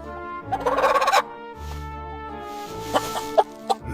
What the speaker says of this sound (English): the hen cackled